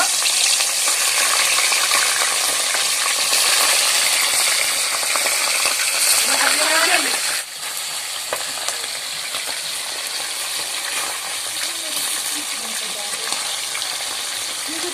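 Roast pieces fry and sizzle steadily in a hot pan at a picnic, a dense bright hiss throughout, dipping slightly midway with faint stirring clinks and scrapes.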